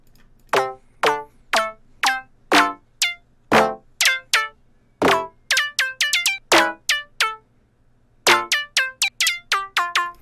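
A bright Serum synth pluck, raised one octave, plays a quick, bouncy melody of short high notes, each with a sharp attack and fast decay, with a brief pause near the end.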